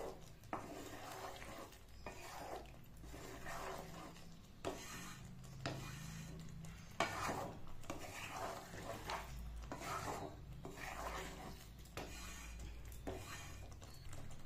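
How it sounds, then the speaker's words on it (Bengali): A spatula scrapes and rasps against a pan while kadhai paneer is stirred, in repeated faint strokes at a steady rhythm with no talking. "এবার ভালো করে মিশিয়ে নেব"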